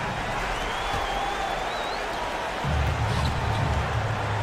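Crowd cheering and applause from a basketball video game in a EuroCup qualifier, a steady wash of noise that swells louder after a few seconds, with faint commentary underneath.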